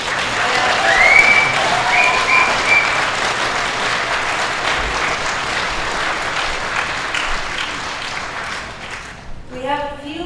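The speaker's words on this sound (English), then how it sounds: "Another round of applause" Sustained applause from an audience at a talk on gender identity and kids, dense and steady clapping for about nine seconds before fading out, with a voice starting to speak at the very end.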